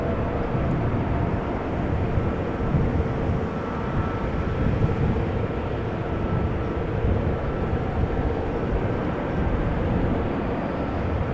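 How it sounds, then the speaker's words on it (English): An Embraer 175 jet arriving at Amsterdam Schiphol Airport from Luxembourg produces a steady, even engine roar heard from a distance, unbroken for the whole stretch. "Embraer 175 arriving from Luxembourg"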